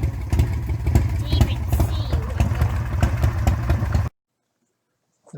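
A Harley motorcycle engine runs close and loud with an uneven, choppy rumble as it is revved, then stops abruptly into near silence.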